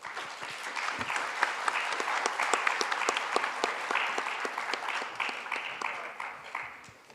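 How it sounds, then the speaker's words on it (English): At a legal seminar session, the audience gives the speakers sustained, fairly quiet applause: a dense wash of clapping with distinct individual claps that continues for about seven seconds before tapering off. "tribute a big applause to our speakers."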